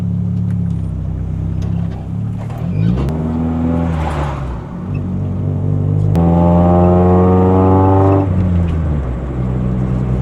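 A repaired Honda Civic engine runs loud and close, holding a steady idle drone that rises and falls through a few revs.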